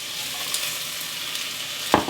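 Chopped red onion fries over medium-low heat in a pan, a steady bright sizzle with a brief stirring scrape near the end and no talk.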